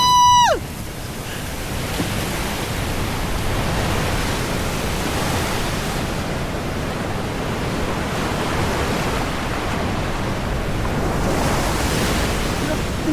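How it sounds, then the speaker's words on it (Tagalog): Sea waves wash steadily onto the shore of Sabtang Island, a loud continuous surf roar with wind buffeting the microphone, after a brief electronic tone at the start. "Ang dagat!"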